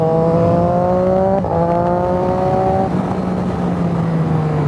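A Triumph Daytona 675R sport motorcycle, heard close and loud, is rev-matched while trail braking into a corner. The engine whine drops, then a sharp throttle blip lifts it on each downshift, and the pitch keeps stepping down.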